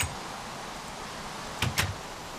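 Steady rain hisses evenly in Minecraft at night, a constant wash of soft noise, broken near the end by two quick knock-like clicks in close succession.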